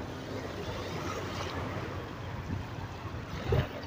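Choppy sea water at Dumaguete port, Negros Oriental, sloshes and splashes steadily against a hull, with wind noise and a slightly louder slap near the end.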